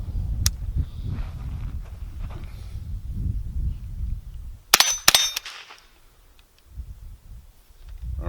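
An Ironhorse rifle with a CMMG .22lr conversion kit and a thumb-operated trigger fires outdoors: two sharp, close cracks in quick succession mid-clip, after an earlier faint click, with quiet rumbling ambience around them.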